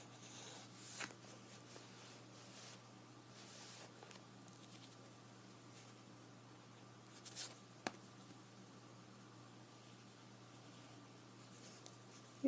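A pencil or pen scratches lightly across paper in a quick sketch, with soft, faint, irregular strokes close by in a quiet room and no voices.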